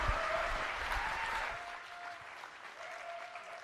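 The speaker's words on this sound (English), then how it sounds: "Give Chris Recker a huge round of applause." Audience applause following a talk at a Facebook ads event, a broad wash of clapping that starts fairly full and thins out over a few seconds, with faint crowd murmur beneath.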